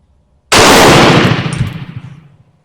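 A single loud, close shot from a Mauser Turkish M38 bolt-action rifle fired outdoors at targets, with a sharp crack followed by a rolling echo that fades over about two seconds.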